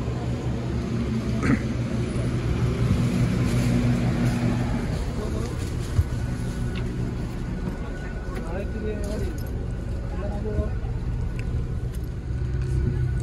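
Steady low engine rumble of a Tung Ma Express bus on the road from Kota Kinabalu to Tawau, droning throughout with road noise and occasional rattles.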